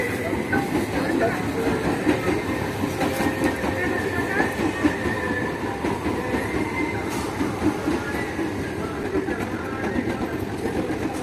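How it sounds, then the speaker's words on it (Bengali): A train rumbles past close by with steady clattering wheels and a continuous roar that fills the whole stretch, loud and sustained, with some voices faintly underneath. "আর এই দিক থেকে ট্রেন আসছে, নয়েজ ভাই আসছে।"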